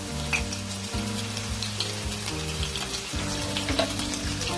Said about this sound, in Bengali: তেলের মধ্যে দিয়ে দেবো রসুন কিমা, একটা লঙ্কা কেটে নিলাম, দিয়ে দিলাম।